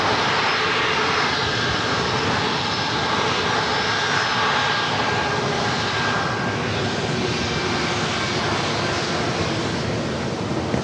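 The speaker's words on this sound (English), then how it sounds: "Southwest 3507, runway 27 for takeoff" A Southwest airliner takes off from runway 27 at San Diego airport, a steady, loud broadband engine roar that holds throughout with no voices.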